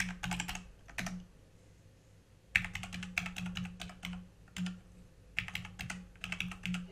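Computer keyboard typing in rapid bursts of keystrokes with short pauses, steady and close, as card payment details are entered on a settings page, with a faint low hum underneath.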